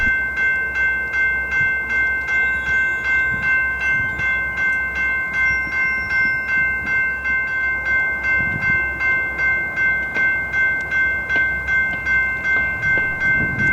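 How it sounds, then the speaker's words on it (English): A freight train rolls past steadily for a long stretch near the tracks in Oklahoma City, wheels clacking in a regular rhythm over a constant loud rumble and ringing tones. "This train snuck up behind me as I was shooting close to the tracks"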